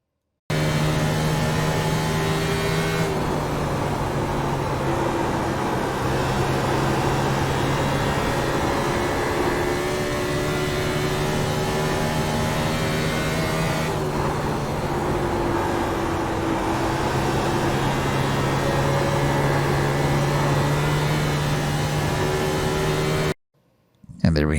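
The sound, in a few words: race car lap at Dover in the video game iRacing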